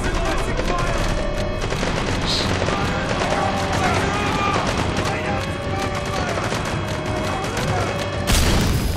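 Shotgun blasts and heavy gunfire in Metal Gear Solid V: The Phantom Pain during a glitch, a dense continuous barrage of loud close shots, with a sharp burst near the end and voices talking underneath.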